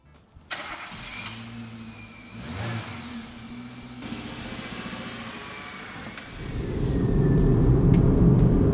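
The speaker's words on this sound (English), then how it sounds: "we need to do a road test to find out what the noise levels are really like inside the car." Interior cabin noise of a cheap old Nissan Matisse on a road test: the engine starts and revs, then a steady low road and engine drone builds, growing louder and heavier toward the end, with no talking.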